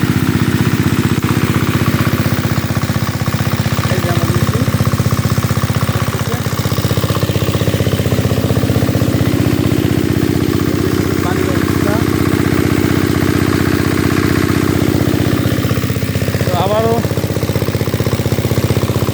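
An engine-powered pesticide sprayer runs steadily in a mango orchard, a loud, constant mid-pitched motor drone with faint voices and birds in the background.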